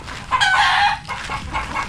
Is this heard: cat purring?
no